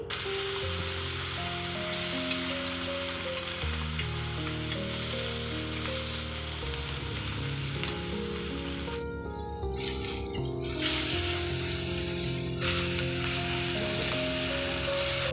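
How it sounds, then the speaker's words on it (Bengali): Sea fish frying in oil in a pan at home, a loud, continuous crackling sizzle throughout, with brief shifts as the pieces are moved or turned. "এই যে মাছগুলোকে আমি ফ্রাই করে নিচ্ছি"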